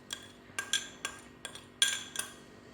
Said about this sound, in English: In this bowl I have 7 cups of plain flour, to which I'm going to add 2 very generous teaspoons of salt